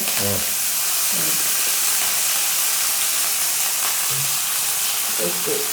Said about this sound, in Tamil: எண்ணெயோட சட்டி சூடு